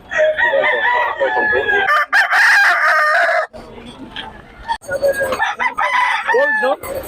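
Several gamecock stags crow loudly and close by in overlapping cock-a-doodle-doo calls with clucking in between, broken by brief gaps and a sharp knock.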